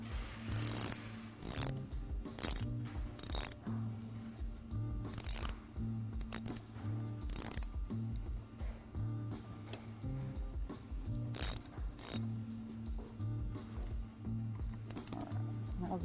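A ratchet tightens the bolts on a Galfer brake rotor of a sportbike: repeated close clicking strokes and metallic clinks over a steady low mechanical hum, continuing throughout.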